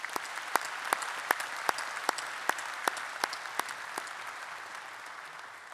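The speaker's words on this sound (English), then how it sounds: "Please join me in a round of applause for all who have contributed" A round of applause fills a graduation ceremony at Swinburne, with a steady wash of many hands clapping and a few sharper claps standing out near the front, slowly thinning toward the end.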